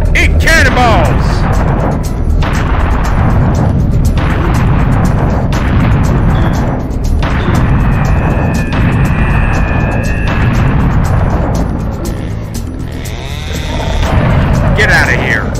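A cannon fires cannonballs during combat in the Serious Sam: The Second Encounter video game, with loud, dense booming blasts rolling on continuously and a few higher whines cutting through near the middle.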